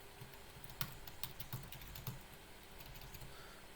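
Keys clicking on a computer keyboard while notes are entered into a Bible study app, a quiet run of soft taps with a few sharper strokes, close and alone.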